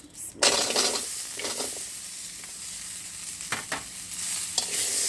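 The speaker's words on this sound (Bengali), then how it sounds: "এটা একটু হালকা ভেজে নেব" Boiled jackfruit seeds frying in a pan, a steady bright sizzle after an initial burst as they go in, with occasional spatula scrapes and clicks against the pan.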